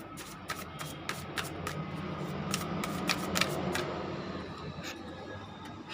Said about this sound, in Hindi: एक कार्ड्स और मैं लूँगी।